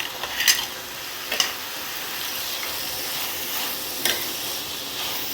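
A utensil stirs and scrapes through paneer biryani in a pan, with a few sharper clinks standing out over a steady sizzle and hiss.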